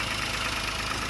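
A 2024 Toyota Wigo idles on a cold start, a steady, slightly shaky engine hum with a constant low rumble, close and alone, no voices.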